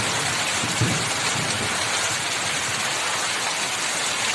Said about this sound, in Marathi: बरसत येतो गरजत येतो ढगांचा कडकडाट होतो अगदी बघा आवाज येत असेल तुम्हाला